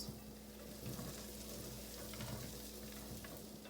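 Butter melting in a pan that still holds browned bits from cooking shrimp for a keto Alfredo sauce, giving a steady close sizzle and crackle with faint stirring scrapes and no voice.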